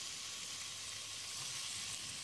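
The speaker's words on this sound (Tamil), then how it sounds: "2 நிமிஷம் எல்லாத்தையும் நல்லா வதக்கிடலாம்." Vegetables for a Nilgiri-style vegetable kurma, including potato, beans, carrot, green peas, cauliflower and mushroom, sizzle in a hot pan. The hiss stays steady and close for about two seconds with no talking.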